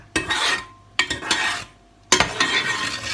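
A spoon stirs coconut milk with sugar and salt in a pot over medium heat, giving three distinct scraping strokes separated by short pauses, close and fairly loud, with no talking.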